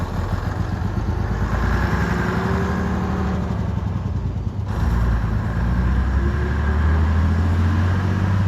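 A Leyland Atlantean bus pulls out through a gate, its diesel engine rumbling loud and steady the whole time with a brief dip partway through as it drives off.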